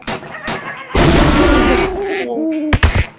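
Bomb explosions in the Bird Assassin video game, a sudden loud blast followed by sustained roaring noise, then a second sharp burst near the end, with game effects between.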